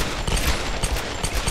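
Dual guns fire in the Tomb Raider video game as a rapid, loud burst of gunshots in a fast, even rhythm that fills the short moment on its own.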